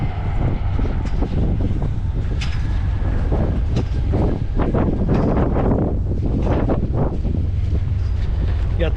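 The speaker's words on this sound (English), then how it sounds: "Super windy right now." Strong wind buffets the microphone in a steady, loud roar during a rainstorm on an island, aboard or beside a boat, with gusty bursts throughout.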